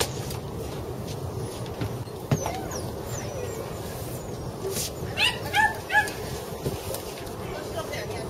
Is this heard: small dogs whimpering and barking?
yes